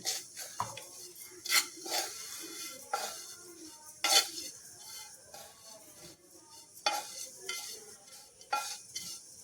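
Grated coconut dry-roasting in a pan on low heat for a ginger curry, with a spoon scraping and stirring in intermittent bursts, short clinks against the metal and a faint sizzle between strokes.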